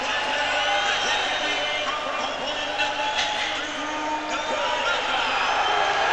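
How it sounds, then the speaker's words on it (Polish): A boxing arena crowd reacts to Andrzej Gołota's ring entrance before his fight with Tyson, a dense continuous roar of mixed applause and booing. A commentator's voice runs over it throughout. "część sali bije brawa, część y, wyraża swoją dezaprobatę"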